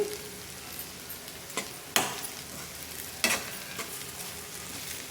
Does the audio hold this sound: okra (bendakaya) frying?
yes